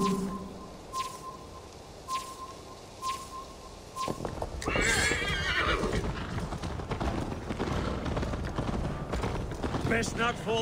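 A horse in the video game Assassin's Creed Valhalla gives a loud, close whinny over a steady clip-clop of hooves, with a character speaking over it and soft ambient game sounds.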